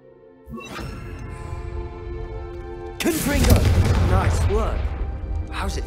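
Confringo spell cast in Hogwarts Legacy, a sudden booming fiery blast that erupts midway over a low background hum and sustained tones, followed by a rumbling, crackling tail with voices talking underneath.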